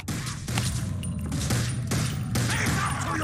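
Gunfire effects for a stop-motion battle between plastic army men and WW2 zombies: loud, rapid volleys of crackling shots that come in several bursts with short gaps between them.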